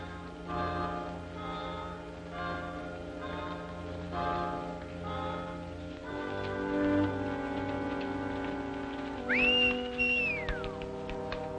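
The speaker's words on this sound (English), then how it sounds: "Stop whistling for that horse." A person whistles for a horse in a 1939 film: one sharp whistle rises quickly, holds a high note, then falls away near the end, over soft background music.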